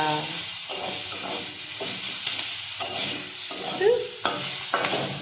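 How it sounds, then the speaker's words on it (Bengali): Bitter gourd and pumpkin fry in a pan with a close, crackling sizzle, while a spatula stirs and scrapes the vegetables in irregular bursts. "উচ্ছে কুমড়ো ভাজা বসিয়ে দিলাম"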